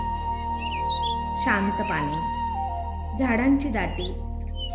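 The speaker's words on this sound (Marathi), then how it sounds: "पक्ष्यांचा किलबिलाट" Small birds chirp and call faintly around a quiet lake set among dense trees, their high notes scattered through the background while a person talks over them for most of the stretch.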